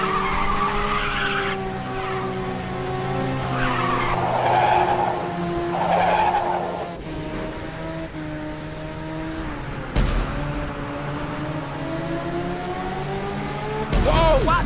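Race cars in Ridge Racer 6 scream through a nitrous boost and skid, engine tones rising and falling with drawn-out tire squeals, a sharp burst near the end, over game music and commentary.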